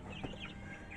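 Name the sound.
poultry clucking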